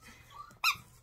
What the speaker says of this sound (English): So it's really, really hard to squeak.